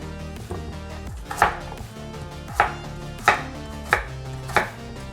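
A knife slices Korean radish on a cutting board, giving about six sharp, evenly spaced chops close up over a quiet background, with no talking.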